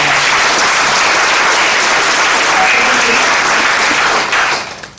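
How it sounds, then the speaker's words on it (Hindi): Loud, continuous audience applause at a motivational success session, a thick, even roar of clapping from a large crowd that holds strong before dropping off abruptly at the end. "जोरदार ताली हो जाए"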